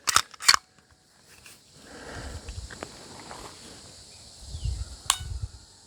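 Sharp metallic clicks from a Canik TP9 Elite Combat pistol trigger breaking and resetting, with a few crisp snaps near the start and another later, plus faint handling rustle.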